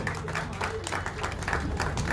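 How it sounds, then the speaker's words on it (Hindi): Faint, even applause from the audience at an award ceremony at the Delhi Chief Electoral Officer's office on the 13th National Voters' Day, many hands clapping steadily from some distance, with voices underneath. "इस सम्मान में तालियां आप सबकी तरफ से जरूर होनी चाहिए।"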